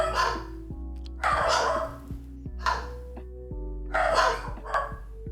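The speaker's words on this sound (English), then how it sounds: "The dogs start barking eventually." Several dogs barking in loud bursts at intervals, close by, with short gaps of quiet between the volleys and no talking.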